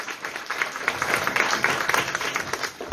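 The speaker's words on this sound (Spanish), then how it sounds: "Agradecer a la doctora Trujillo, dame un fuerte aplauso nuevamente, ¿verdad?" Brief burst of audience applause at a conference event on teen pregnancy prevention, moderately loud clapping rising and falling over a few seconds with no clear talk.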